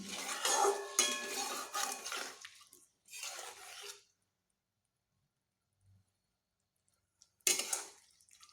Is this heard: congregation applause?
no